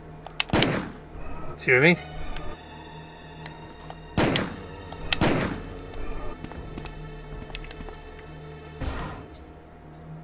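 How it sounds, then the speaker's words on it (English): Gunshots from Resident Evil: Director's Cut: several sharp, loud single blasts spaced a second or more apart, each with a booming tail, amid game ambience and someone talking between them. "Three shots there and you're done"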